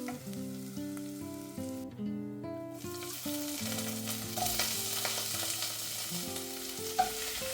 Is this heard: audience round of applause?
no